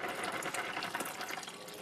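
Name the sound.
water being poured in while cooking spaghetti bolognese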